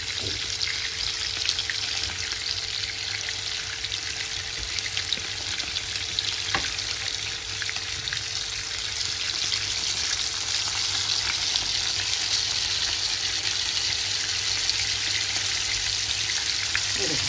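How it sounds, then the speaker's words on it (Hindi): Kebabs frying in hot oil give a steady, close crackling sizzle that holds evenly throughout, with a faint hum underneath and a few small clicks, and no talking. "कितना ज़बरदस्त फ्राई हो रहा है"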